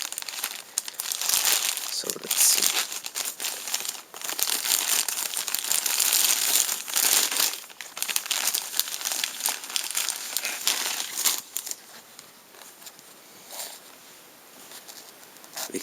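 A plastic bag crinkles and rustles loudly up close as a Victorinox Soldier knife is unboxed, with dense continuous crackling that eases off toward the end. Someone speaks briefly over it.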